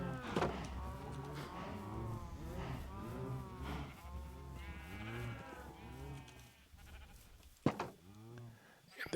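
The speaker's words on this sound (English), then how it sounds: "The sheep here, we're not really looking to harvest them, right?" Sheep in the Minecraft video game bleat repeatedly in a steady run of wavering calls, moderately loud, with a sharper noise near the end.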